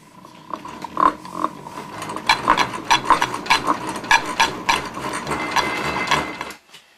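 Single-phase chatter from a Lynx 160 alternator turned by hand, heard up close as a rhythmic ratcheting, clattering whir with a faint humming whine, pulsing unevenly with the cranking before stopping.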